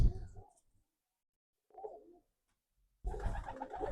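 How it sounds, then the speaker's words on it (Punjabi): Garde wale breed pigeons coo in two short bursts, one soft near two seconds and a louder, fuller one at the end, set apart by near silence after a brief opening sound. "ਗਰਦੇ ਵਾਲਿਆਂ ਦੀ ਦਿਖਾ ਦਿੰਨੇ ਆ ਕਬੂਤਰੀ ਸੁਣ"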